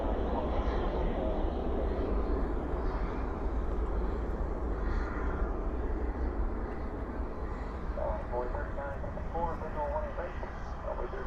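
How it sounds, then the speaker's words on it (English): An Airbus A320 landing at night at DFW with spoilers up and thrust reversers deployed gives a steady, broad engine roar throughout, with a faint voice surfacing near the end. "Spoilers up, reversers out on this A320."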